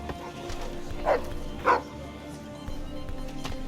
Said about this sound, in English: Oh, nice doggy.